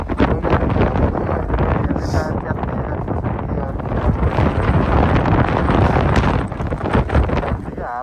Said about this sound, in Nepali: हावा यस्तो चलेर उडाउडा रहेछ फेरि मान्छेलाई